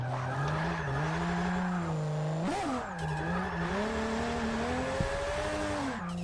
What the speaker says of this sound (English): I do love the sound of that turbo, though.